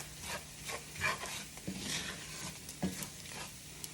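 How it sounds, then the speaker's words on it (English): Sausage browning in a cast iron skillet for sausage gravy, a soft, fairly quiet sizzle with a few light scraping bumps as it is moved around, no speech. "it's browning pretty good, and this cast iron skillet holds the heat"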